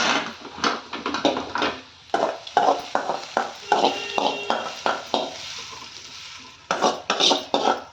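Green gram dosa batter for pesarattu is mixed in a bowl, giving a steady series of close, wet scraping and clinking strokes in a regular rhythm with brief pauses.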